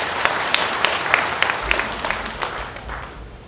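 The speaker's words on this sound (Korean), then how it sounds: "박수로 맞이해 주시기 바랍니다" An audience at a civic watchdog group's launch ceremony in Busan claps to welcome a speaker, a moderately loud wash of applause with distinct individual claps standing out, gradually thinning toward the end.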